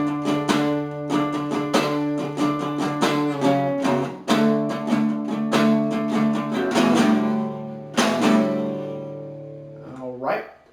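Electric guitar plays the fourth section of a song, a busy run of strummed and picked chords in shifting rhythm at close range, ending with a squealing slide.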